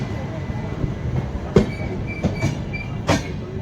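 A Howrah–Radhikapur Kulik Express with LHB coaches on the move, giving a continuous rolling rumble broken by several sharp rail-joint clacks close by, with a faint voice now and then.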